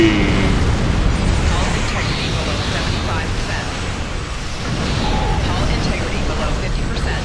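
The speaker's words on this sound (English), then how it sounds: "I'll show you the high yield torpedo" A high yield torpedo fires in the Star Trek Online space combat game, a loud rumbling, explosive burst that rolls on as a continuous roar for several seconds.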